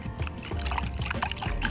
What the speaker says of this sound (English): Mix and pour over bread slices.